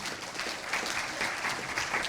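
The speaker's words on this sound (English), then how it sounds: "So big round of applause." An audience at a company fashion show applauds steadily, a dense wash of clapping that holds at an even level throughout.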